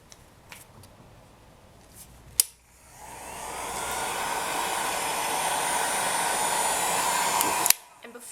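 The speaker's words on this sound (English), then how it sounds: "So I'll just use the heat gun" A heat gun cures polymer clay earrings, starting after a click and rising into a steady, loud rushing blow that holds for about five seconds before it cuts off with another click. Faint noise comes before it.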